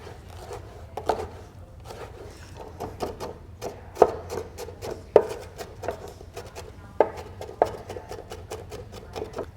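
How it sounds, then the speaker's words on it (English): A knife chops vegetables for a Mediterranean salad on a cutting board in a rocking motion, giving an uneven run of quick, light taps with a few sharper knocks, close and fairly quiet. "we're just going to cut this down and we're going to just keep chopping on it."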